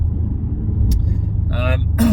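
The V8 exhaust of an Audi S5 drones steadily as the car drives, a constant close low rumble with brief bits of speech over it toward the end.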